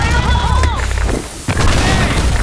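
Grenade explosions in the Blackshot online shooter video game, loud deep booms with heavy low rumble, one cutting off and another striking about halfway through, with voices shouting over the blasts.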